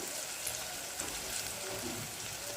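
Turmeric and cumin powder hiss in hot oil, a dense, even sizzle filling the short stretch with faint stirring bumps and no speech.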